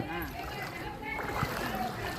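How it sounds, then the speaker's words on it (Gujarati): Steps wading through knee-deep rainwater flooding an old mill colony in Wankaner, with continuous sloshing and splashing under nearly constant nearby talking. "હું પણ અત્યારે પાણીમાં અત્યારે હાલી રહ્યો છું"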